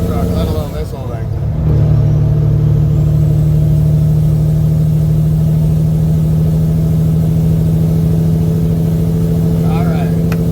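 A Peterbilt truck with a 350 HP Detroit Diesel engine hauling a heavy load: a steady, loud droning engine with a deep sustained hum, holding a constant pitch after a brief swell near the start.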